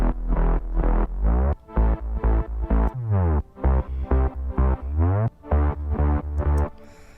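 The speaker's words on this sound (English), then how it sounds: "that's what our bass line with our chords sounds like" Electronic dance music: a punchy synth bass line with stacked chords, pumping in a rhythmic sidechained pattern with short gaps between hits, loud and clean with no voices.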